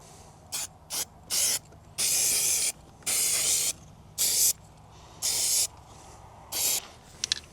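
Repeated bursts of spray paint can hissing, short and longer pulses separated by pauses, close and fairly loud with no talking, while painting a Bobcat T590.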